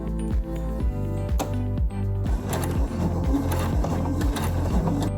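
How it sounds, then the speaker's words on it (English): A sewing machine runs a straight stitch seam while boxing in a button placket on a baby onesie, its needle thumping in a fast, regular rhythm, close and alone, briefly pausing before resuming. "I then sew in the box with a straight stitch seam"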